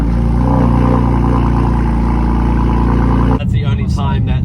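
A 2015 BMW M4 Competition's loud exhaust on cold start with valves open, a deep, heavy droning rumble that cuts off abruptly near the end.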